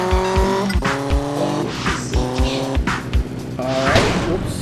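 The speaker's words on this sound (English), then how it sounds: "so let's ride this bike. Press X to accelerate" Motorbike in GTA Vice City Stories on a handheld emulator, its engine revving and accelerating in rising, harmonic bursts with regular rhythmic thumps, loud and up front.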